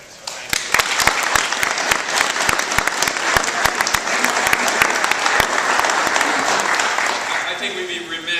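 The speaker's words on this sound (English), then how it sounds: "So I give you guys a round of applause and congratulations on a really strong weekend." A gathering at a college rowing award presentation breaks into sustained applause for the rowers, dense clapping with a few sharper close claps, tapering near the end.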